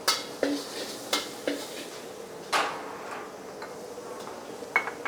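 Clattering utensil strikes and scraping in a pan as garlic stir-fries in hot oil over a faint sizzle, with sharp metallic clicks scattered irregularly throughout.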